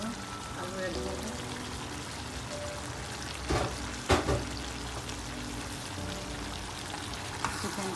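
Potatoes go into a pan of frying chicken curry with a soft clatter and splash over a continuous close sizzle, with a couple of brief louder knocks midway.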